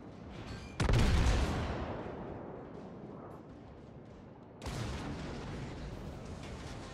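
Naval guns fire in World of Warships, two loud booming salvos spaced a few seconds apart, each with a long rumbling decay, with no voices over them.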